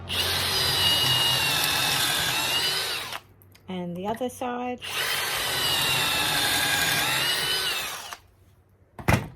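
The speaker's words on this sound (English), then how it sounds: "push all the way down to the collar, and then out again while the drill is still going" Power drill runs at full speed for about three seconds boring pocket holes in a K5 pocket hole jig, stops while someone briefly speaks, then runs again for another long burst before cutting off.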